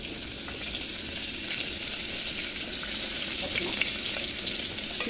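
Curry leaves, a torn dried chilli and a small shallot fry steadily in hot oil for a village-style green bean curry, giving a continuous close sizzle with faint crackles and no talk.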